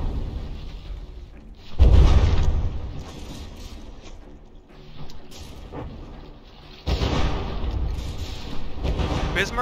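Battleship guns firing in From the Depths: heavy booming salvos strike in two loud bursts with rumbling tails, and a voice talks throughout between and under the blasts.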